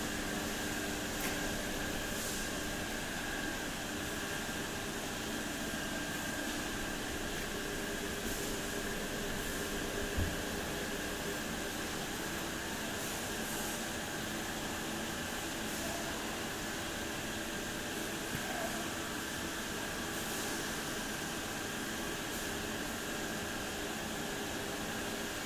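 A laminar air flow unit running with a steady, even blower hum and airy hiss, constant and close throughout with only faint occasional clicks, no talking.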